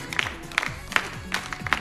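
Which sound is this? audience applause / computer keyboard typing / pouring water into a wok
audience applause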